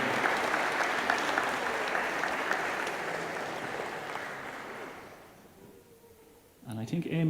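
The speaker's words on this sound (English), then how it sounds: "So give her a big round of applause for Amy." Concert audience applauding for performer Amy Whelan at an anniversary concert, a dense wash of clapping that slowly thins and fades over several seconds, followed by a voice starting to speak.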